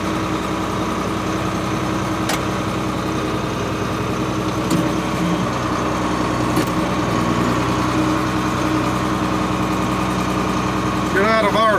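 Tractor engine idles steadily through a soybean harvest with a grain cart nearby, a continuous low drone alone, with a faint clatter near the end.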